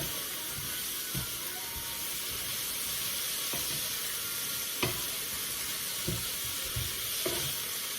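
Cheese is stirred a handful at a time into bacon and potatoes in a hot pan, giving a steady close sizzle with occasional soft scrapes and taps of the utensil.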